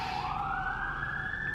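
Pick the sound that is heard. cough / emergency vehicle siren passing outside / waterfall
emergency vehicle siren passing outside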